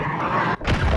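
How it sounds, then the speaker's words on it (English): A cruise missile strike explodes in a multiplayer shooter game, a single loud deep boom breaking in after a brief dip, with rumbling low-end debris trailing off. "Hostiles launched a cruise missile."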